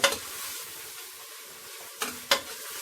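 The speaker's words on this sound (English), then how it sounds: "So I'm still stir frying" Steady sizzle of turkey neck stir-frying in a pot outdoors, with a couple of sharp scraping stirs near the start and late in the clip.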